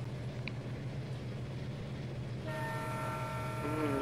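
In a Bangladesh railway train simulator game, a running EMD locomotive's rolling drone is joined midway by a loud, sustained multi-tone horn blast that continues to the end, with no talking.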